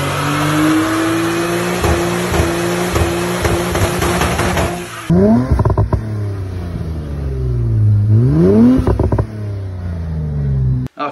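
An Infiniti Q50/Q60 with the 3.0T VR30 engine and an SCS catback exhaust growls loudly at a steady rev, then gives several sharp revs that rise and fall, close and alone.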